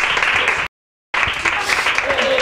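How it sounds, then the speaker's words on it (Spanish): Studio audience applause for the camera operators at a group interview event, brisk clapping broken by a sudden brief cut to silence before the clapping resumes, with a voice talking faintly over it. "un aplauso para ellos, para los cámaras"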